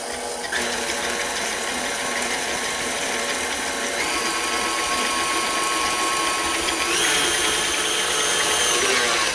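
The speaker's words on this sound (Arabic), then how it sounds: "وانا بضرب الزبدة مع السكر خد تقريبا حوالي 7-8 دقايق" An electric mixer whirs continuously as it beats butter and sugar into a cream for almond cocoa biscuits, a steady motor drone close by with a brief shift in tone partway through.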